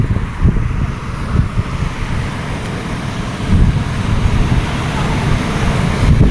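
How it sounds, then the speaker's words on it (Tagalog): Strong wind buffets the microphone while high, large waves roll and crash onto the shore nearby, a loud, continuous rumble with surging peaks and a few brief voices. "ang taas ng alon. Ang lalaki."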